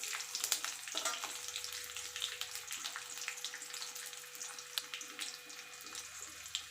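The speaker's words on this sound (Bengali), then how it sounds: "কুলটাকে রান্না করে নেব।" Jujubes cook in a pan for pickle, giving a soft, continuous sizzle and bubbling hiss scattered with small crackles and pops, heard close up.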